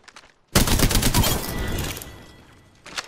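Rapid automatic gunfire bursts out in the Apex video game after a brief quiet, a dense loud volley that tapers off over two seconds, with a faint shot or two at the edges and no talk.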